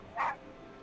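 A single short dog bark in Genshin Impact on PS4, a brief, mid-pitched yelp standing out clearly over a faint steady background hum.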